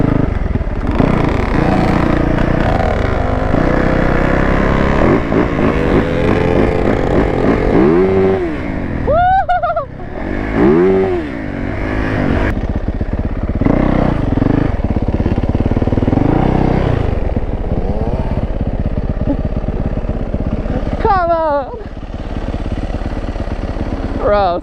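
A two-stroke Yamaha YZ125 supermoto revs and buzzes continuously up close while ridden off-road through Florida trees; riders shout and talk over the engine.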